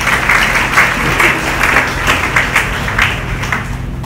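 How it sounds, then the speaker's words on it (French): Church congregation applause in a French-speaking service, a dense, continuous rattle of many hands clapping close by with a few rhythmic peaks. "Alors, applaudissez Saint-Esprit dans la vie."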